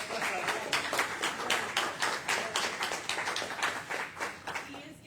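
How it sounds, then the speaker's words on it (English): A church audience gives a Sunday speaker a warm round of applause: a steady run of dense, crackling claps lasting about five seconds, with a few voices mixed in. "So I think he deserves another round of applause."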